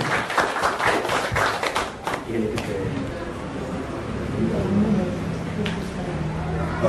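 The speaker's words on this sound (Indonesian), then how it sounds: "Let's clap for Jesus." A church congregation at a Sunday worship service claps together. A dense burst of clapping fades into crowd murmur and scattered voices, with talk over the applause.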